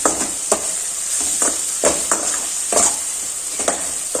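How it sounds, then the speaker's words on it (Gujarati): Vegetables sauté in a pan with salt, turmeric, coriander-cumin powder, garam masala and red chili for a pasta dish; a spatula scrapes and taps in a regular rhythm over a constant close sizzle. "બધા વેજીટેબલ્સને આપણે વધારે પડતા નથી સાતળવાના"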